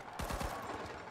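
Quiet rapid gunfire from THE FINALS closed beta, a quick run of several thumping shots in a short burst that trails into a soft, rattling continuation.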